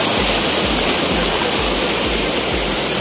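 A flowing stream rushes loudly and continuously nearby, a dense, steady roar of water with no voices.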